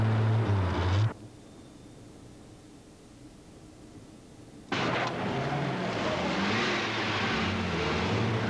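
A car engine roars loudly with a revving surge, cuts off abruptly into near silence for a few seconds, then returns at full, sustained loudness.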